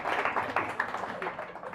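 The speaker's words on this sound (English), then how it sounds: "one more round of applause" Quiet, brief patter of audience applause at a startup pitch event, a dense run of hand claps heard from a little distance.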